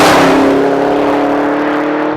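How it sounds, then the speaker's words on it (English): Chevy Camaro ZL1 sports car on a race track, its engine roaring loud and steady at high revs for the whole stretch, a dense close-up drone that barely dips, with no talk. "Crossing the start-finish line in the Camaro ZL1."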